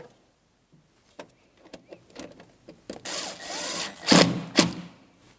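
Short ratcheting and scraping bursts as a clamp is tightened on the air inlet tube of a 2007-2014 GMC Sierra 2500 HD engine, starting with faint clicks and building to louder rasping strokes, close by with no talk.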